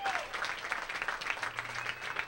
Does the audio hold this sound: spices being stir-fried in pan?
no